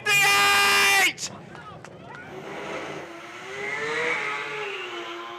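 Sport compact drag racing car during a run, a loud high-revving engine roar that cuts off abruptly after about a second, followed by a fading engine drone under a commentator's excited talk.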